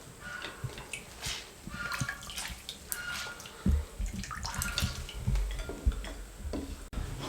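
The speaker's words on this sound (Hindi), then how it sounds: "तमाम आलू इस तरीके से निचोड़ लिए।" Grated potatoes wrung out by hand for a potato omelette, water dripping and splashing in irregular wet squishes and patters, close and moderately loud, with no talk.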